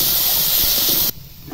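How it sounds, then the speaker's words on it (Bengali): Potatoes frying in hot oil in a pan give a loud, dense sizzling hiss that holds steady for about a second, then suddenly drops to a faint crackle. "আলুটা ভালোভাবে ভেজে নেব"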